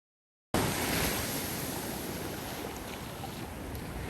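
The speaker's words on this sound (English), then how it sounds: "please enjoy the pleasing sounds of the magical ocean" Ocean waves at the beach along the California coast between Santa Cruz and San Francisco, a steady broadband wash of surf with wind rushing across the microphone, starting abruptly and holding loud and constant.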